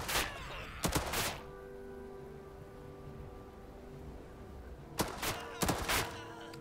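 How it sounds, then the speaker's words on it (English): Artillery shelling in Headquarters: World War II: a pair of sharp, loud impact bursts near the start and another cluster near the end, separated by a quieter droning stretch. "Oh my god, someone's dropping artillery on us."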